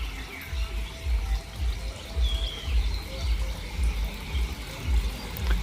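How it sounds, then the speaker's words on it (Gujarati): Fountain water splashing and pouring outdoors in a village setting after rain, a steady close wash of water with birds calling faintly in the background. "અત્યારે બહાર ખુલ્લામાં ઊભો રહીએ ને એટલે એક ફક્ત આ ફાઉન્ટેનના પાણીનો અવાજ સંભળાય"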